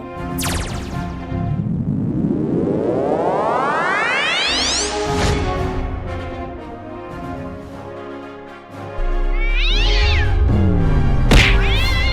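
A cat meows in loud, drawn-out wails mixed with cartoonish rising whoosh effects, a crash and a brief rumble, all close and prominent, with no talking.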